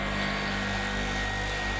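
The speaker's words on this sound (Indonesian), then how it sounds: "kompresor hidup" An air conditioner compressor runs with a steady, loud droning hum and a constant whine, unbroken throughout; the unit's fan motor is faulty and stays still.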